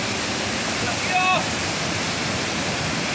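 Cachoeira do Roncador waterfall roars as a constant, dense rush of falling water, loud and close, with a brief faint whistle-like tone in the middle.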